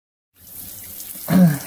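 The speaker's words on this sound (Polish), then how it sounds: "No, zimna woda, polewanie nóg." Cold water running from a tap or shower and pouring over bare legs after a 21 km run, a steady close splashing stream that gets louder and heavier near the end.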